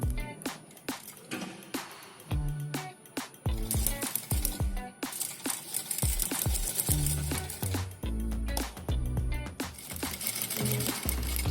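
Sewing machine stitching a washable medical mask, its needle running in continuous fast bursts with brief pauses and small clinks and rattles, fairly close and steady throughout.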